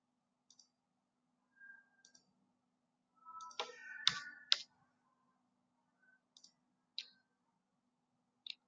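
Computer mouse clicks while citations are edited in a Word plugin, scattered single and double clicks spread over several seconds, quiet and close, with a brief louder cluster of clatter in the middle.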